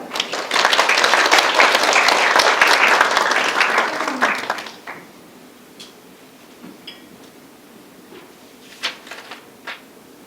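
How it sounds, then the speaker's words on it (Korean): An audience at a digital forwarding briefing applauds to welcome Kim Young-sook, CEO of Yangji IT: dense, loud clapping for about five seconds, then it dies away to a quiet room with a few faint knocks. "저희 양지IT 김영숙 대표님을 박수로 환영해 주시기 바랍니다"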